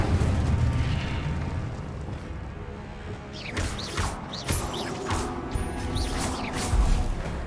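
Incendio fire spell being cast in the Hogwarts Legacy video game, heard as loud whooshing bursts and crackling flame blasts amid a busy mix of combat effects and rumbling impacts.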